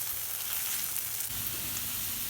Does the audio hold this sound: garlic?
yes